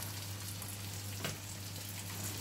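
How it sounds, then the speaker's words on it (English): Steady sizzling of pancetta frying in a hot pan, a constant crackling hiss with a low hum underneath and no talking. "we're just going to fry that down until they're nice and brown"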